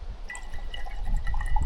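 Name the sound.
cold water poured into a cup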